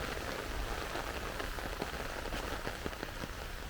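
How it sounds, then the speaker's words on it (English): Rain falls steadily outdoors on a Montego Bay airport strip, a dense, even hiss with scattered louder droplet taps throughout. "I don't start it in the rain, but the rain catch me"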